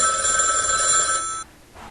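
An old-fashioned telephone bell rings loudly and continuously at close range, then cuts off abruptly, leaving near silence and a faint rustle.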